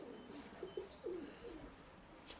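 Pigeons cooing softly close by, a few low, throaty coos in a short rhythmic sequence over quiet background hiss.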